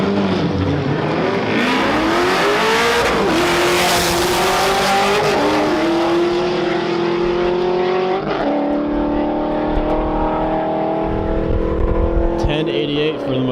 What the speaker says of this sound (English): raced the C5 versus the McLaren